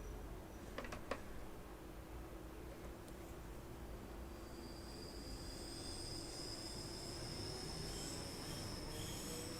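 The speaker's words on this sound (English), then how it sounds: "the sounds of these trains, I think, are amazing" Electric multiple unit running on the Cathcart Circle Line, Glasgow, in a train simulator: a steady rumbling rail drone with brief early clicks, then a high sustained whine rising in over the later half, no talk.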